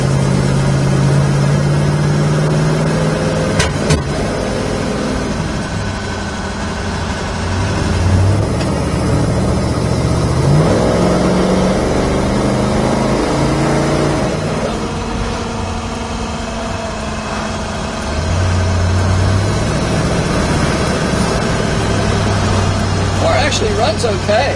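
Engine of a 1971 Dodge Challenger while driving: a low, rumbling mid-range drone whose pitch rises and falls with throttle and shifts, close and fairly loud throughout, with a few brief knocks and clicks.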